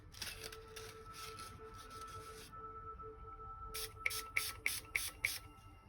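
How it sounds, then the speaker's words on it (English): Quiet bursts of bleach spray from a trigger bottle, a long hiss, a pause, then five short rhythmic squirts, close and soft over a faint hum. "Spray bleach onto it"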